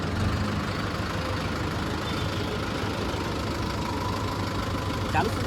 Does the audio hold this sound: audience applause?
no